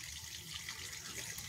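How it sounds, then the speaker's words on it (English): A garden waterfall running steadily, a continuous soft rushing wash of falling water heard alone at low level throughout. "I'm just sitting here listening to the waterfall going."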